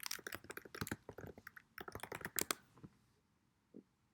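Rapid typing on a computer keyboard while searching Canva templates: a dense run of close, crisp key clicks that slows and stops, followed by a single soft tap near the end.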